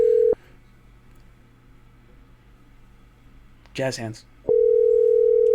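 A continuous landline dial tone sounds, drops out for several seconds of near silence, then returns loud and steady, with a short spoken phrase just before it resumes.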